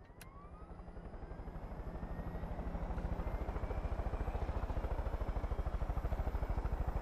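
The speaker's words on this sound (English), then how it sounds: "Alright, helicopter time." Helicopter in the Far Cry 5 video game, rotor chop building into a steady, loud rhythmic thump with a whining turbine tone above it, heard alone.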